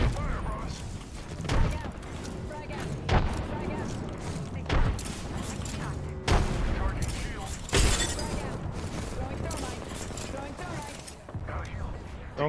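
Grenade and thermite blasts in a multiplayer shooter game, heard as a run of sharp bangs and booms with clattering debris at irregular intervals, while players talk excitedly over them.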